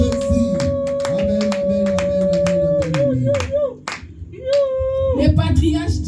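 A church congregation at a Sunday worship service claps along with music, steady rhythmic applause mixed with singing and instruments, loud and close throughout.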